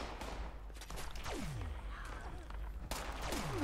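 Gunfire in Fallout 76 against cultists, a few sharp shots with falling whistling tones, fairly loud over constant game ambience, with no talking.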